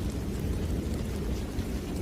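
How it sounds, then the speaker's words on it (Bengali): Steady, dense rain with low rolling thunder and gusty wind sweeps continuously over a village road in a Bengali cartoon, loud and unbroken throughout. "সঙ্গে ঝোড়ো হাওয়া আর টিপটিপ বৃষ্টি।"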